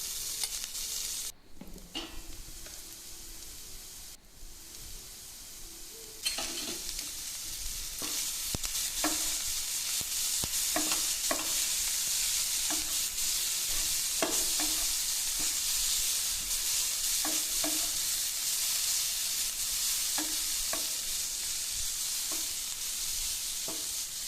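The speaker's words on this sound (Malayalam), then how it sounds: "ഇനി എല്ലാം കൂടെ നന്നായിട്ടൊന്ന് മിക്സ് ചെയ്ത് കൊടുക്കാം" A spatula stirs cooked chicken wrap filling around a hot frying pan. The sizzle is steady and loud throughout, with repeated scraping strokes that grow fuller after the first few seconds.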